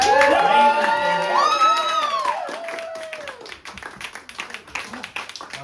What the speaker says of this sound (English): Let's have one last big round of applause for our chefs